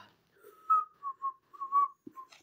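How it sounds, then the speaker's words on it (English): A lone whistled tune of several short, clear notes, fairly close and quiet, with a brief thump near the end. "He's like whistling"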